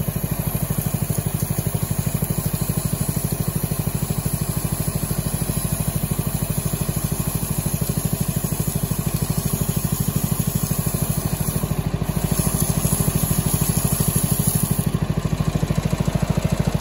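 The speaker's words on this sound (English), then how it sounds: "You can, if you're careful, crank the motor up and just kind of hold it there." Snapper commercial mower engine running at a held throttle, a loud steady mechanical buzz close by, continuous and unbroken for the whole stretch with no talking.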